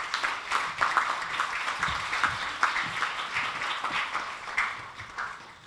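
Applause from an audience honoring panelists at a university teach-in, steady dense clapping that carries on for several seconds at moderate level, slowly easing toward the end.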